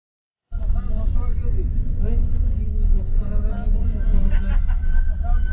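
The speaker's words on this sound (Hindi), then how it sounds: "ट्रैफिक जैम हो गया" Road traffic in a jam near Khanapara, Guwahati, heard from inside a bus: a continuous low engine rumble and idling hum, with people's voices and faint sounds from outside mixed in.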